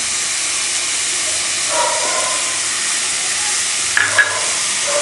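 Egg sizzling in a pan beside vegetables for kothu roti, a steady close hiss of frying with a faint scrape or clink near the end.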